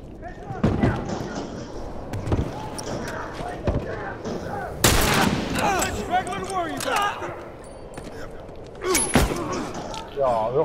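Gunfire in The Last of Us Remastered online multiplayer, sharp bursts and single shots popping out irregularly over a busy game mix, with excited players talking throughout.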